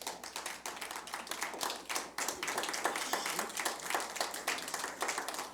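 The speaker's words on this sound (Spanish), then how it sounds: "Alguien dele un aplauso fuerte al Señor." A church congregation claps for the Lord during a sermon, many hands striking in a fast, dense, fairly steady patter that swells slightly midway and is heard alone without talk.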